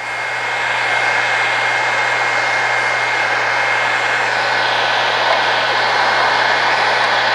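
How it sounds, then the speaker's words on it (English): Heat gun blowing on a sticky vinyl sticker, a loud steady whooshing hiss with a constant motor hum underneath, continuous and close for the whole stretch. "This is a pretty sticky vinyl sticker. So we'll try the heat gun trick."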